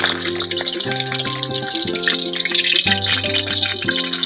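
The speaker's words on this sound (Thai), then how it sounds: "นี่คือไข่ดาวเค็มเราลองทดลองทอดให้เพื่อนๆได้รับชมกันนะครับ" A salted egg fries in hot oil, a loud steady sizzle and crackle with spattering throughout, with a low tonal hum of music playing underneath.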